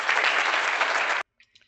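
A large audience claps in sustained, dense applause after a lecture, a steady roar of hands that cuts off abruptly, followed by a few faint faraway sounds.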